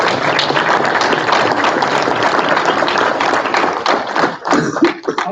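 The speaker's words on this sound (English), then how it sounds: "Let's give them a great big round of applause" A round of applause fills a school board meeting room, steady clapping from a modest group that keeps going evenly before thinning into a few scattered claps at the end.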